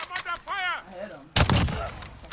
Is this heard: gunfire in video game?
yes